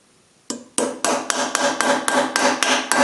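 A hammer strikes a chisel to cut metal away from a steam press, giving about nine sharp, evenly spaced metallic blows, loud and close with ringing decay and no talk.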